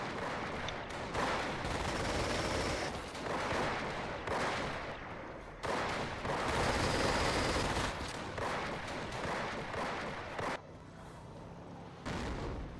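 Heavy gunfire support in the Company of Heroes war strategy game, dense overlapping bursts of rifle and machine-gun fire with booming impacts, loud and continuous with brief lulls.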